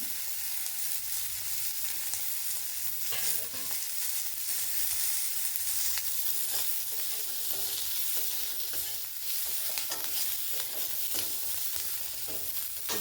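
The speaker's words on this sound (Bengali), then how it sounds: "আম পেঁয়াজ ক্যাপসিকাম সব ভেজে নিয়েছি আলুর সাথে" Potatoes frying in a pan with capsicum and chopped onion, a steady broadband sizzle with intermittent stirring scrapes running throughout, close and even in level, no voices.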